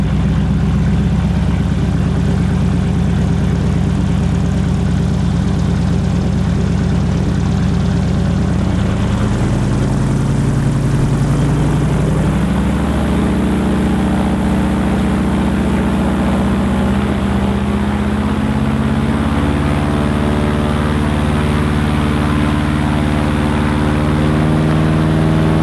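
Loud, steady roar of a powerful wind machine blasting air at a person standing in front of it during an Outwell tent test, a deep droning rumble that shifts and builds partway through, with no talking.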